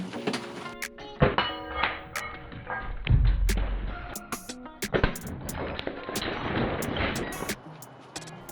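A Pocket Shot slingshot fires balls at targets during practice: a series of sharp snapping shots and thwacking impacts, loud and close, spaced irregularly with a heavier thud in between.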